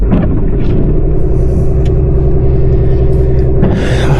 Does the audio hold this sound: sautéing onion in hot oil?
no